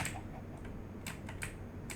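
Computer keyboard typing during Minecraft play: a few sparse, quiet keystroke clicks over a low steady hum, with no voices.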